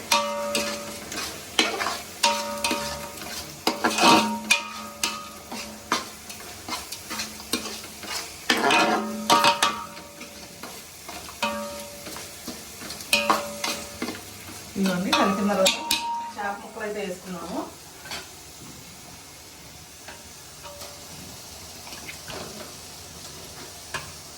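A spoon scrapes and stirs fish curry in a pan on the stove: repeated close scraping strokes in irregular bursts over a soft simmering sizzle, the stirring trailing off toward the end and leaving quieter bubbling.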